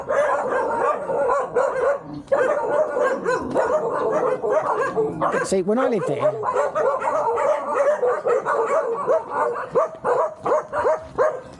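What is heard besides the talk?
dogs barking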